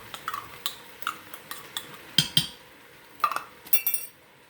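A spoon stirs food in an Instant Pot, scraping and clinking against the metal inner pot in a run of short, separate knocks and chinks, close and fairly quiet, with no talk over it.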